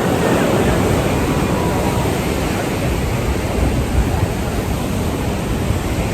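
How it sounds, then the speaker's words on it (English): Small waves wash continuously beside an ocean pier, a loud, steady hiss of surf close by with no distinct breaks. "The waves are really small on this side, so you're not going to get blasted"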